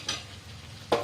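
Chicken and potatoes sauté in a pan, a quiet continuous sizzle broken by two short bursts of stirring scrapes, one near the start and one at the end.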